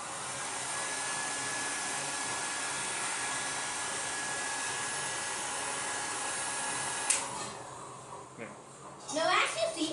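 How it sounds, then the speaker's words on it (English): A hair dryer blows air at a candle behind a rectangular box, a steady loud whooshing roar for about seven seconds that then cuts off, followed by a voice speaking close by. "I am going to blow it with the hair dryer."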